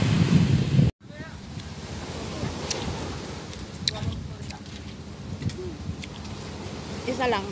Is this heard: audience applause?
no